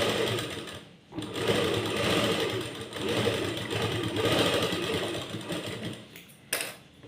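An electric sewing machine stitching fabric runs in loud, steady mechanical whirring bursts, pausing briefly near the start and again near the end, close up with no speech.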